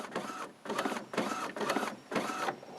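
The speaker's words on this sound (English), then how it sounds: "this printer prints on two sides automatically" An Epson WF-2650 inkjet printer printing two-sided pages, its print head shuttling back and forth in four regular whirring passes separated by brief pauses, close and clear.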